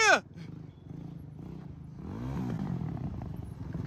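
A Honda TRX450R ATV ridden by a young rider revs at moderate distance, the engine note rising and falling as it downshifts after a brief high squeal at the start.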